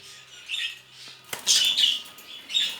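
Jumbo budgerigars, a male and a yellow female, give harsh squawks and chirps close by in several bursts separated by brief pauses, along with faint rustling.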